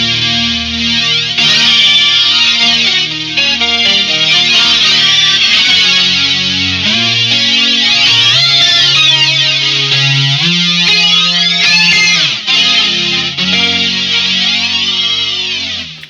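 Boss SY-1 guitar synthesizer played with the tone knob turned up for a bright sound, giving a loud, sustained, buzzy synth line with gliding pitch sweeps and shifting notes, no voice.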